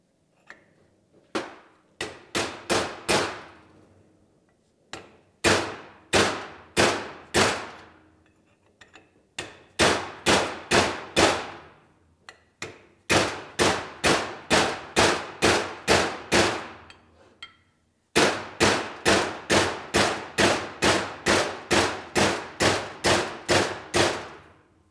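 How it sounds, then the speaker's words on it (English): A sharpened bit bites into a bushing in repeated bursts of sharp, rapid metallic impacts, each run a few seconds long with short pauses between, loud and close. "You can see I'm cutting up the bushing pretty bad, trying to get it out."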